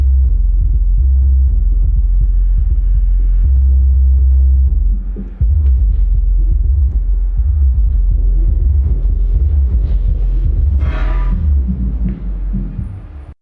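Deep, heavy bass rumbles and throbs steadily from a Fidelity FDT 120 SW MK2 subwoofer through a low-pass filter, loud and boomy, with the low end dominating throughout and no one speaking.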